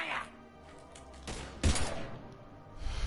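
Gunfire in the video game Mass Effect Legendary Edition: a few sharp, booming shot bursts in quick succession over a quiet, low background, with no talk between them.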